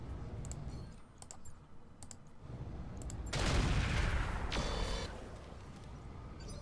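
Weapons firing in the mech combat game Roguetech: a few sharp bursts early on, then a loud, sustained roar of fire building from the middle before easing off, with no talk over it.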